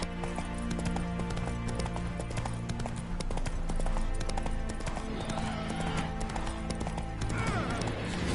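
A galloping horse pounds out a quick, continuous clip-clop, close and fairly loud, over a busy background with a faint whinny.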